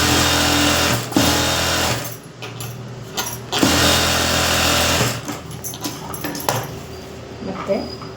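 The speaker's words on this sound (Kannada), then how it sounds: "ಈ ಥರ ಸ್ಟಿಚಿಂಗ್ ಹಾಕೊಳ್ಳೋಣ." A sewing machine stitches a blouse in short bursts of fast, loud mechanical whirring, stopping and restarting several times with brief pauses between runs, close up.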